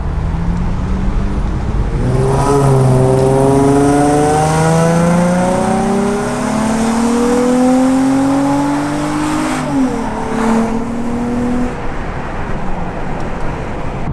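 A G35 car with test pipes revs and climbs through several gears with a raspy, loud exhaust note, rising pitch sweeps, and steady road noise throughout.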